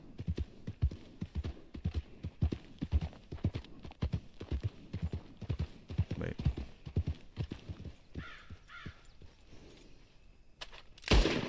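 Horse hooves clip-clop steadily in Red Dead Redemption 2, a quick repeating rhythm of close, clear footfalls that runs throughout, with someone talking over parts of it.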